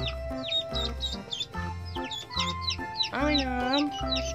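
Colourful chickens among ducks being chased, with rhythmic clucking and squawking calls close by, while a person talks throughout.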